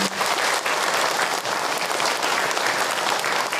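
Audience at an Islamic sermon by Ustadz Hilman Fauzi breaks into dense, sustained applause, a close, even wash of many hands clapping without a break.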